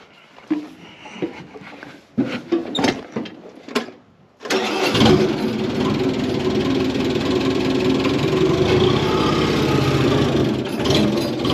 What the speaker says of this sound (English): I do have to back the roller back up.